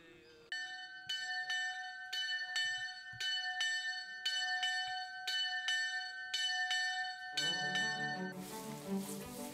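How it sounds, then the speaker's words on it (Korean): A church bell at a mission rings a bright, cheerful run of about fifteen evenly spaced strikes with long ringing tones, then stops as a louder, busier background sound takes over. "경쾌한 종소리가 들리자"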